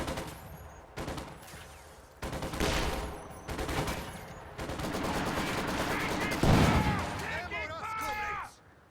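Maxim machine gun fire in a Company of Heroes 2 match, with bursts of rapid gunfire and other battle noise crowding the mix, and shouted unit voice lines breaking through near the end.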